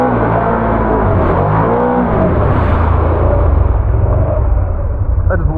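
A Can-Am Outlander XMR ATV engine roars steadily as it accelerates through a sandy clay mud track, loud and close, with the pitch climbing and dipping, mud splatter and faint voices beneath it.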